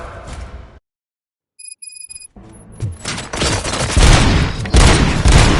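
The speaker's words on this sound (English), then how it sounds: "Gunshots? What's going on?" Loud gunfire erupts in RoboCop: Rogue City after a brief silence and a few faint electronic tones, building into dense, sustained bursts of shots with rumbling booms.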